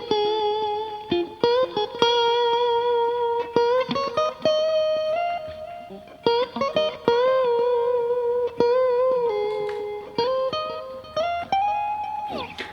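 An electric guitar plays a blues lick of bent, sustained notes in short phrases with pauses, loud and close with no voices.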